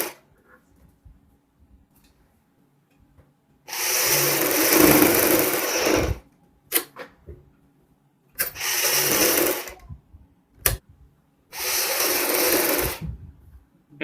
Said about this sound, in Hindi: यहाँ पे हम शोल्डर की साइड से सिलाई लगाना शुरुआत करेंगे।